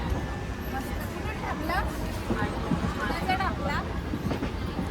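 A train rumbles past nearby with rhythmic rail clatter, while people's voices chatter in the background.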